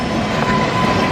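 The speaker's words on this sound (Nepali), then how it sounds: "यहाँ देख्न सकिन्छ यो चाहिँ रेल कुदिसकेको अवस्था छ।" An Indian Railways train runs past at Jogbani on the India border, making a loud, close, continuous rumble with rolling wheel clatter and a faint metallic squeal.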